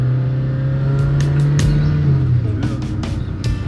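A Talbot Samba cabriolet with an inline four-cylinder single-carburettor engine idles close by, a steady low hum that rises slightly in a brief rev before settling, with a few faint clicks.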